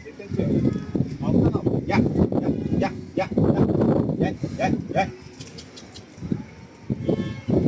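Tumbler pigeons coo softly in the background while people talk over them close by, with a brief flutter of wings.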